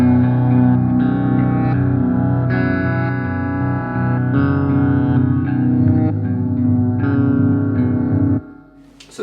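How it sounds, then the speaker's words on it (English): Slow, deep electric guitar loop on an Electro-Harmonix 45000 Multi-Track Looper, played back an octave down, with heavy effects and reverb, sustained low notes shifting in a steady pattern before cutting off abruptly. "it's a lot slower and it's played back an octave down"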